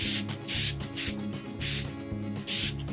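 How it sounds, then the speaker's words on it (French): Makeup setting spray misted from a bottle in four short hissing bursts spaced about a second apart, close and bright, with quiet pauses between. "Là je vais finir avec un spray."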